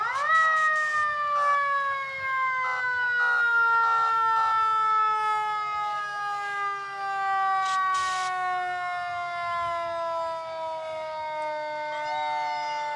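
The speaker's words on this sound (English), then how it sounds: "That's one of those sirens where you feel like taking a breath." Police car sirens in a nighttime festival parade wail with a sustained, slowly descending tone, loud and close, alongside occasional short whoops and faint crowd noise underneath.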